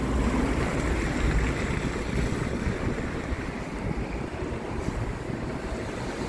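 Strong wind sweeps past a bus stop on a city avenue, a steady, loud broadband roar with gusty rumble and microphone buffeting throughout, no voices.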